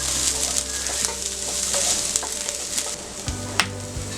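Vegetables and capsicum stir-fried over a full flame for egg Schezwan rice give off a steady, close sizzle, with occasional clinks and scrapes of the utensil against the pan.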